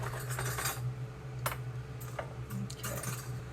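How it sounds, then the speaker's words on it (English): A spoon is picked out from among cutlery, making a few faint, brief metallic clinks and taps spaced over a few seconds in a quiet room. "So I'll just grab me another spoon in here."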